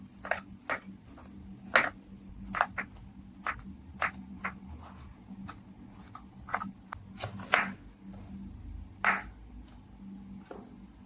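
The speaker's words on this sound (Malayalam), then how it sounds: "കുക്കുംബർ ഇങ്ങനെ സ്ലൈഡ് ആയിട്ടാണ് കേട്ടോ കട്ട് ചെയ്ത് കൊടുക്കേണ്ടത്." A knife slices a cucumber thinly on a board for a salad, giving a run of crisp, close, evenly spaced cuts over a low steady background hum.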